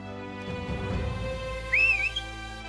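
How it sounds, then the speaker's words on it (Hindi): A person whistles a single rising-and-falling tone near the close of a short moment in a military period drama, standing out loudly over a steady low background hum. "अब सीटी कैसे बजाते?"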